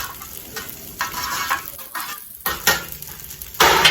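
Fried rice sizzles on a Blackstone griddle while a spatula stirs and scrapes it across the flat-top in uneven strokes, close and fairly loud with no talking.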